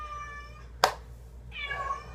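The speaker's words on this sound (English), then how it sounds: "All 3 of my cats are in" A house cat meows twice up close, wanting to be let outside, with a sharp knock or tap between the two drawn-out cries.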